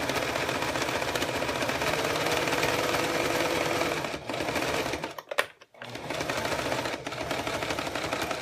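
A sewing machine stitching a seam, fast steady mechanical chatter close up that runs continuously, pauses briefly for a second or two, then resumes at the same even pace.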